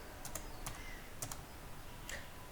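A username is typed on a computer keyboard, a few faint, sparse key clicks over a low background hiss, with no talking.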